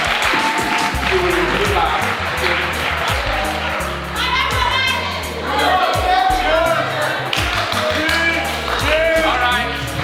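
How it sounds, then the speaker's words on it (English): An audience at the TIC Summit 2024 finals awards ceremony in a hotel applauds and cheers for an award winner. Loud, sustained clapping from a crowd runs under and between an announcer's amplified speech. "Please clap for her."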